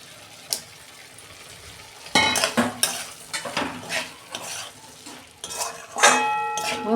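Taro stolons dropped into hot spiced oil sizzle and crackle loudly while a utensil stirs and scrapes against the pan in irregular bursts, preceded by a quieter low simmer.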